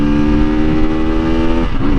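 A 2022 Sinnis Terrain 125 motorcycle revs hard through the gears, its engine droning loud and close with a steady rising tone and a brief dip at a shift.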